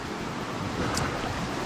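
Below a cliff edge in New Zealand bush near Auckland, water rushes in a steady, broad wash that sounds like surf, moderately loud with slight wind buffeting and no speech.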